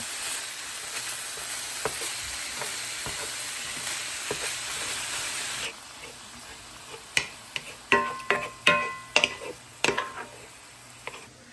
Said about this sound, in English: I'm going to toss those onions in with this hamburger. And we're going to cook this together until the hamburger is completely done.